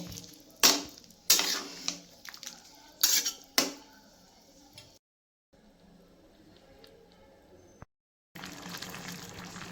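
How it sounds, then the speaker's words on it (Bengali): Sukto, a Bengali vegetable dish, stirred gently in a pan, with several distinct metallic clinks and scrapes of a spoon against the pan, then a quiet stretch of soft stirring and simmering. "এটা বেশি নাড়া যাবে না হালকা হালকা করে ভাবে নাড়তে হবে"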